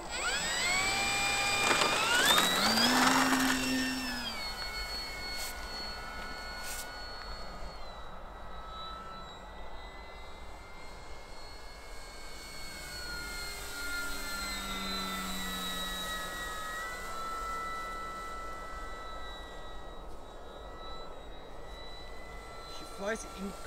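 A TopRc Hobby Thunder RC model airplane with a flight controller throttles up with a loud electric motor whine, rising in pitch for takeoff, then drones steadily as it flies, fading and swelling as it passes at a distance.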